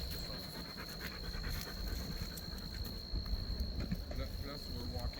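Dog panting rhythmically on an outdoor walk near a dam, quick steady breaths close by under a constant insect buzz, with footsteps and brief talk.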